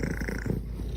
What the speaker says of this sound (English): Purring isn't just a feel-good sound